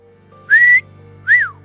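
Two short, clear whistles close by, the first a sustained note and the second a quick rising-then-falling tone, over a low hum.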